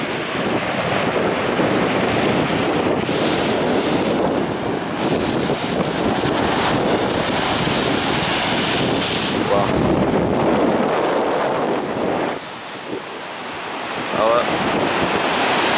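Steady roar of ocean surf washing onto the shore at Terrigal Beach, Australia, with heavy wind buffeting the microphone throughout.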